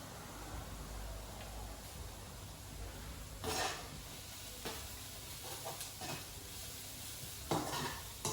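Onion, mint and other ingredients sweat in a pan for Maltese fish soup (aljotta), giving a steady, close, gentle sizzle with a few sharper scrapes and clinks of stirring.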